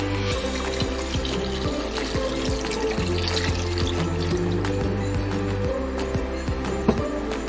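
Pineapple juice poured into a pork tocino marinade makes a steady, close liquid splash and trickle that lasts several seconds, with no talking over it.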